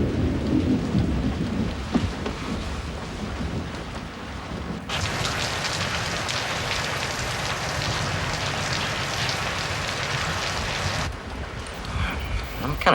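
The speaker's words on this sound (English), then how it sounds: "I'm gonna let the rain die down a little bit. It's not safe to drive when it's like this." Heavy rain pours steadily, drumming hard on surfaces, with low rumbles of thunder rolling under it and a sudden surge in the downpour midway, loud and unbroken.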